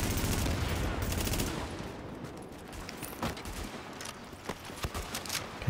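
Video-game gunfire in The Division, rapid bursts of automatic shots crackling in a fairly quiet mix, with sharp individual reports scattered through the later part.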